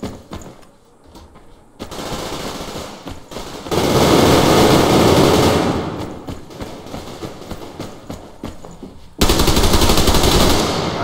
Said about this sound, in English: A little dinky Uzi